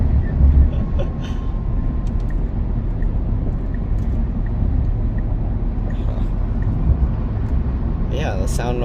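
Tire road noise from a Tesla Cybertruck on Michelin Defender LTX Platinum all-season tires, a steady low cabin rumble from start to finish with a person talking over it.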